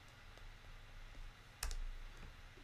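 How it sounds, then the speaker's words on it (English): Typing on a computer keyboard while working in Photoshop, heard as a few soft, scattered key clicks with one sharper cluster of strikes partway through, close and fairly quiet with no talking. "So I'm going to type in sequence 1"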